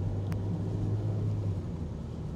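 Inside a moving Lada Largus, the engine drones steadily and low while driving, an even, continuous hum with road noise and no talking.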